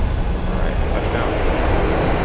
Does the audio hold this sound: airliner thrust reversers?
yes